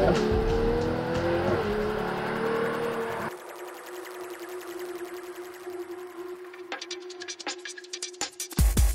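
A Ferrari 12Cilindri sports car runs on a race track, its engine droning loud and steady before the tone drops as it eases off, followed by a series of sharp mechanical pops and clicks.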